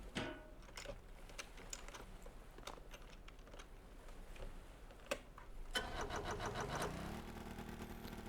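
An engine in the video game Stormworks cranks over amid a few clicks and taps, then catches and settles into a steady running drone with rising pitch, moderately loud and with no talk.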